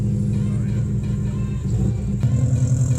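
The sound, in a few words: 2004 Subaru Impreza WRX engine running loudly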